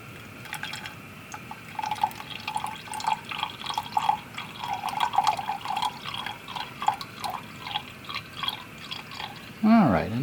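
Water is poured from a squeeze bottle into a lab solution to bring it up to 100, giving soft intermittent trickles and drips close by, with a voice talking over them.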